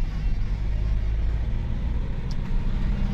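An old Mercedes Vito van with a stiff clutch, driving on the road: a steady low engine and road rumble heard from inside the cab, continuous and fairly loud throughout.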